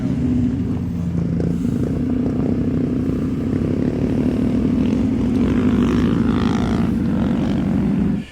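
A Dodge Dakota truck is towed backwards up an off-road hill, its engine droning at a steady low rumble close by for the whole stretch before cutting off at the end.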